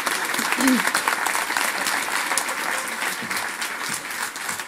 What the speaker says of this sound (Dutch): Applaus voor Ilke.